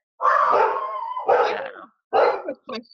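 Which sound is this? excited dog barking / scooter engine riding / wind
excited dog barking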